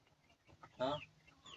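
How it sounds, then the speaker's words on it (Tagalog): A single short burst of clucking from a silver laced heritage chicken, fairly close, standing out briefly from a quiet background. "Ito naman yung aking silver lace na manok."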